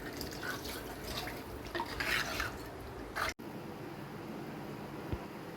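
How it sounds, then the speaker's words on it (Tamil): Water poured into a pan of Tamil crab curry (nandu kuzhambu) with tamarind water, a steady liquid splashing and trickling at close range for a few seconds, then a quieter simmering hiss with no talking. "இப்போ குழம்புக்கு தேவையான தண்ணி சேர்த்துக்கலாம்."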